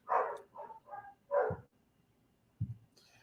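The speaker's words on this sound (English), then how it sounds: "our neighbors get to barking, and then our dogs start barking." Dogs bark at home, setting off in answer to neighbours' dogs: a run of several sharp, fairly close barks in the first second and a half, a pause, then one more bark, with no talk.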